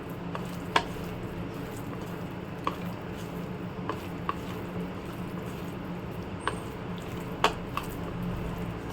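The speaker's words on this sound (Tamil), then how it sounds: "இந்த மசாலா எல்லாம் நல்லா மிக்ஸ் பண்ணணும்." Prawns being mixed by hand with masala and lemon juice, with no water added, giving soft wet squishing and occasional light clicks against a bowl, close and fairly quiet with a steady low background hum.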